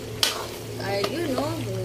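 Chicken in sauce being stirred in a pan, with steady sizzling and scraping of the utensil while a person talks over it.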